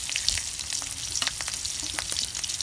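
Onion and chili frying in oil for Maggi noodles, a dense close crackling sizzle with sharp spits and pops throughout, no speech.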